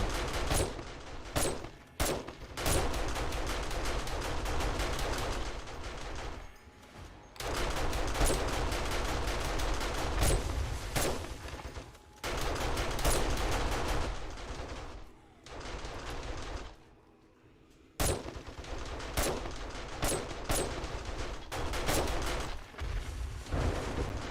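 Rapid gunfire in the survival video game 7 Days to Die, long loud bursts of automatic shots broken by short pauses, close and dominant with almost no talk.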